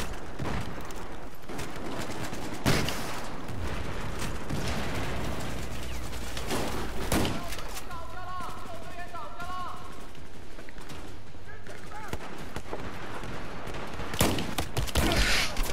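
Gunfire in Battlefield 4 rattles throughout in dense bursts with sharp louder cracks scattered across the stretch, mixed with game noise and voices talking over the action.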